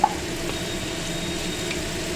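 Spice paste for a rohu fish and tomato curry sizzles in a pan with very little oil, a steady, close hiss of frying.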